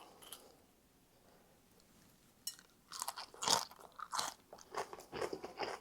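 Crunchy bites and chewing of a fresh, mayo-free cabbage slaw, starting quiet and then a run of close, crisp crunches in an irregular rhythm, with no talking.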